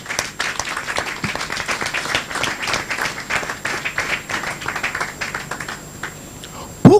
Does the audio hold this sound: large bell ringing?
no